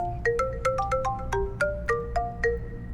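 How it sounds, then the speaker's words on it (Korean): A smartphone ringtone in a crime-themed video game plays a bright, melodic sequence of quick chiming notes in a repeating pattern, loud and close over a low background hum, with no talking. "휴대폰이 울리기 시작한 것은 그때였다."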